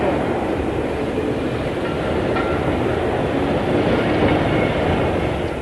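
A passenger train rumbles steadily along the rails on a stormy night, a continuous loud roar with faint rhythmic clatter of wheels, heard from close by and without pause.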